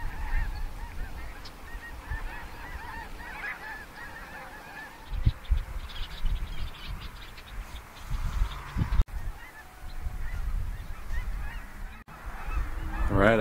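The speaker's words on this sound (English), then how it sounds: "we have greater white-fronted geese here at the front, and then in the back there, looks like we have some Canada geese" A flock of greater white-fronted and Canada geese honks continuously from a moderate distance, overlapping calls rising and falling, with low rumbling noise underneath, in Central California.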